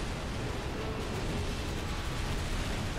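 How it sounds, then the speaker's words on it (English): Continuous rumbling explosions and blasts in Halo 3, a dense, loud, steady wash of noise with no clear breaks and no talk. "Explosions everywhere."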